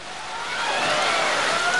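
Heavy rain pours down at an outdoor boxing match, a dense broadband hiss that swells slightly louder over a couple of seconds.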